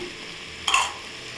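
Beef gravy being sautéed with coriander powder and chili powder in a pan, a soft steady stir and sizzle with a brief louder scrape of the spatula midway.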